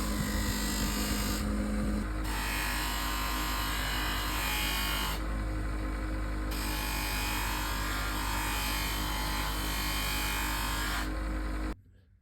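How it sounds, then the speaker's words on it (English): Steady whirring drone of a buffing wheel spun to about 3000 RPM, loaded with chromium oxide compound and polishing the inside of a woodworking gouge, continuous and close, cutting off abruptly at the end. "I simply rely on the buffing wheel to polish that area inside of it"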